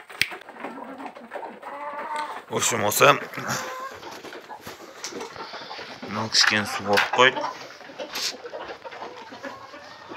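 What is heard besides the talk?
chickens clucking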